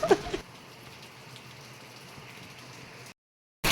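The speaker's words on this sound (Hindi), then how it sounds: "तो बाहर बहुत ज़्यादा बारिश हो रही थी।" Heavy rain falls outdoors as a steady, dense hiss at moderate level, briefly interrupted by louder handling noise at the start and a short gap near the end.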